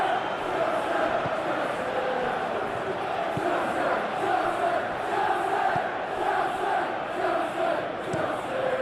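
A stadium crowd in a football simulation video game of Chelsea vs Arsenal roars in a continuous dense wash of cheering and chanting, steady and loud throughout with no distinct breaks.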